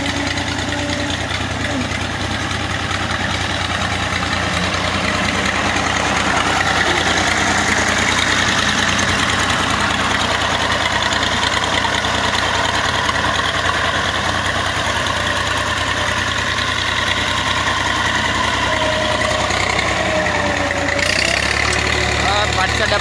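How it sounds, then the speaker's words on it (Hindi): A tractor with a plough attached and its body panels removed is driven through an orchard. Its engine runs steadily and loudly for the whole stretch, a continuous idling-like drone close to the listener. "ट्रैक्टर की आवाज़ आ रही है।"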